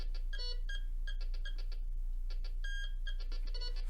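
A SUNPOW MD02 metal detector emits repeated short electronic beeps in irregular bursts, some clustered and some spaced apart, with a steady low hum underneath.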